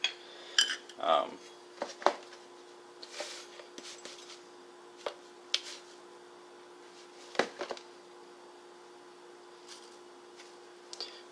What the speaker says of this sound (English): I'm going to stir that up really good